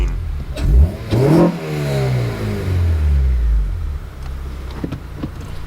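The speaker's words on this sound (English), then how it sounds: "Let me see what it sounds like for myself." Honda Civic Si with a Skunk2 Alpha header revving hard, engine note sweeping up and down in two loud surges before settling into a steady rumbling idle, close up with no talking.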